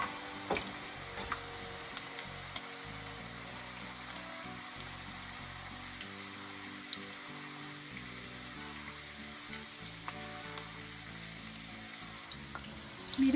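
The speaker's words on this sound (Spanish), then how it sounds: "vamos a freír las flautas. Ya vamos a empezar a dorar las flautas." Beef flautas frying in hot oil, a steady, even sizzle and crackle that runs unbroken at moderate volume throughout, with occasional faint pops and no talking.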